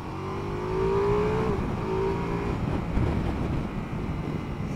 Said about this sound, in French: Écoute le bruit de la boîte à air quand tu arrives à certains régimes.